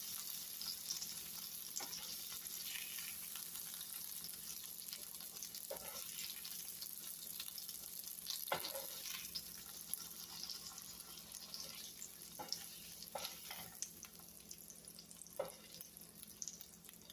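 Smoked sausage and pasta frying in a pan, with a steady sizzle and crackle and occasional stirring scrapes close by throughout.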